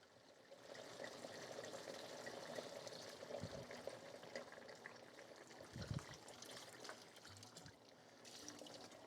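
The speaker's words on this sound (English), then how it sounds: "And throw some red wine in there." Leftover red wine is poured into a pot while a Thanksgiving dish is cooked, giving a soft, continuous trickling splash lasting several seconds. It is faint and quiet, with a few low bumps along the way.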